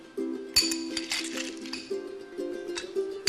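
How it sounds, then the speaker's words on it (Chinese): Ice cubes clinking as they are added to a bowl of farmhouse sweet soup, a series of close, bright clinks and knocks with a steady tonal hum underneath. "再帮我们加冰块，把冰块放上去。"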